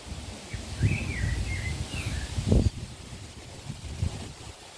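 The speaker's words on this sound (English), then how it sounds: "hear the beautiful breeze of the trees here as the wind gets up" Wind gusts through the trees of Milton Country Park, a low rumbling rush buffeting the microphone, with birds calling briefly and a louder gust near the middle.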